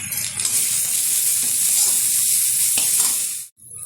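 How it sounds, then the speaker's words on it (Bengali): Onions fried red-brown in a pan with ginger paste, garlic paste and cumin powder for a katla fish curry give a steady, close, loud sizzle with faint stirring, cutting out briefly near the end. "পেঁয়াজটা লাল লাল করে ভেজে নেওয়ার পর দিয়ে দিচ্ছি আদা বাটা, রসুন বাটা"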